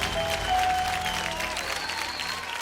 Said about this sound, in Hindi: जोरदार तालियों के साथ इनको विदा देते हैं